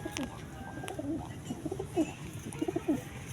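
Racing pigeons coo outdoors in the morning, several soft, low throaty coos repeating near the end over a constant background hum.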